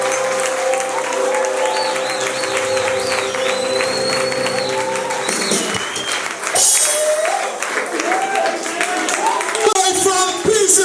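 A theater audience applauds and cheers for a singer at a semi-final of a televised singing competition, dense clapping and crowd noise throughout with whistles and shouts rising near the end, while a host speaks over the crowd.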